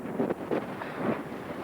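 Gusty wind buffets the microphone in low, rumbling bursts, steady and close, with no voices, on a rainy, windy morning in Bosnia.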